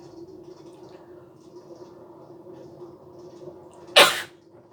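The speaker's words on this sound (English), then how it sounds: "When you gotta sneeze, you gotta sneeze." A single loud, sharp sneeze from hay fever bursts out near the end over a low, steady background hum on a Disneyland ride.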